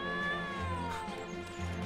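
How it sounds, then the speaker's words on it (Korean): A cat meows in the Trials of Mana remake game, a single drawn-out, falling cry over steady game music. "고양이는 그냥 야옹."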